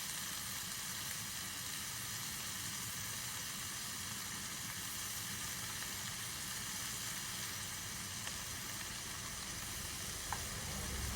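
Wild mushrooms fry in a pan at a roadside cookout near Mountain City, Tennessee, giving a steady, dense sizzle and hiss that carries on evenly throughout with no voices.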